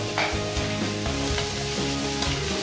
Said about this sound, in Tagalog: Sutay natin ang beef.